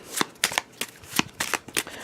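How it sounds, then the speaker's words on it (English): A deck of cards is shuffled by hand during a tabletop board game, giving several quick, crisp riffling bursts in an uneven rhythm, close and clear with no talk. "We're going to add a card, and we're going to shuffle this up."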